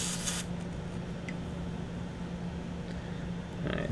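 Airbrush spraying paint onto a Warhammer 40k Genestealer Cult Acolyte Iconward miniature, a steady close hiss that runs unbroken for several seconds with a brief sharper burst at the start and end.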